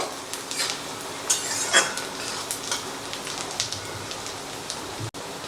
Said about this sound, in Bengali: তো আদা রসুন দিয়ে মিনিট খানেকের মতো এটাকে ভেজে নেব।